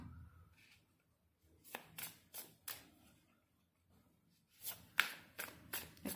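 Tarot cards being shuffled by hand: quiet, crisp riffling bursts in several short clusters with pauses between them, close up and faint.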